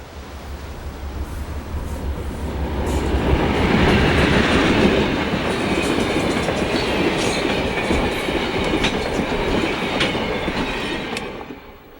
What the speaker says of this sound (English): a surprising little train rolls back the pages of time.